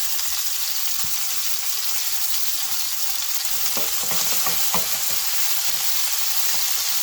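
Chicken pieces for crispy sesame chicken sizzle steadily in oil in a pan, a loud continuous crackling hiss with occasional sharper pops and spatters, no voices.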